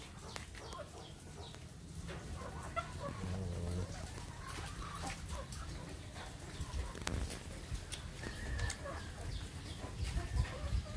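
Free-range chickens, including a bantam fighting a rooster, cluck and squabble amid general farmyard noise, with people talking in the background.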